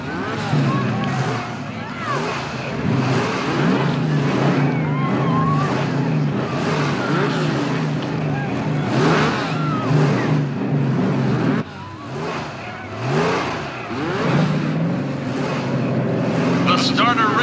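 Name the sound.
alternative energy race cars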